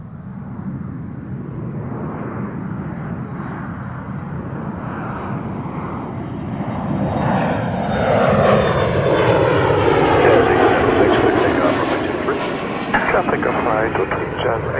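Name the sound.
airplane departing Toronto Pearson Airport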